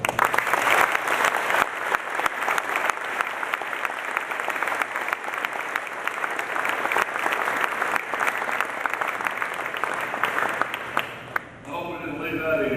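A banquet audience at a football awards night claps steadily and loudly for about eleven seconds, a dense, even roar of many hands that tapers off abruptly near the end.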